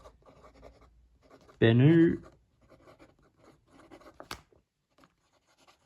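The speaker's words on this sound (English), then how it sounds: "time for the writing sample" Benu Autograph fountain pen, an Elegant version of the Euphoria model, writing on Clairefontaine 90 gsm paper: quiet, intermittent nib scratching, close and faint, interrupted by a brief spoken word.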